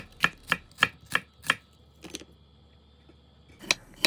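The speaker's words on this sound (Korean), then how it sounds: "양파 4분의 1개를 썰어주고" A knife slices a quarter onion on a cutting board in quick, crisp chops: five evenly spaced strokes, a pause with a softer scrape, then one more sharp cut, close and clear with no talking.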